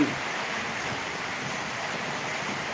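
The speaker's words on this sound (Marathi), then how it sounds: "बाळोमांच्या मंदिरावर पाऊस पडत आहे" Rain falls steadily on the Balumama temple, a constant broadband hiss that stays even and fairly close throughout, with no one speaking.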